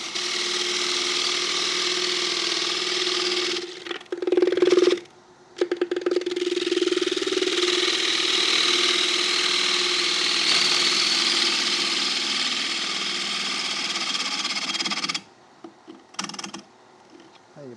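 A bottom bowl gouge cuts a large silky oak bowl spinning on a woodturning lathe, giving a steady scraping, humming drone with brief breaks where the tool lifts off near the end.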